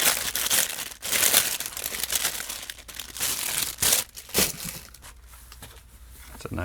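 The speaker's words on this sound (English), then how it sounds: "Sorry for all the rustling." Loud, close crinkling of packaging while items from a CountyComm gear haul are handled, including a bandana, with bursts of rustle and crunch coming and going across the stretch and no talk.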